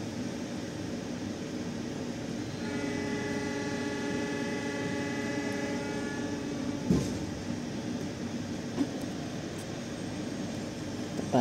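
The Gaya Baru Malam Selatan train pulls out of Madiun station with a steady rumbling drone, heard from on board. A faint rising motor whine and occasional soft knocks sit over the continuous low noise.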